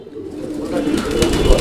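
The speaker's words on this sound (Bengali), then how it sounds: "এটা হচ্ছে জ্যাকোবিন কবুতর একটা জোড়া, ব্ল্যাক কালারের হল্যান্ড জ্যাকোবিন।" Low, throaty cooing from a pair of black Holland Jacobin pigeons close by, a continuous murmuring call rising slightly toward the end.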